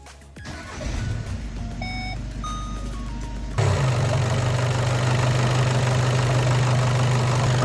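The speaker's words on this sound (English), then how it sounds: "And now I will warm up engine without bleeding coolant system with VCDS." An EA288 2.0 TDI diesel engine starting and then idling as it warms up, after a short run of electronic beeps. A steady mid-pitched rumble grows louder partway through and holds evenly, with no voices.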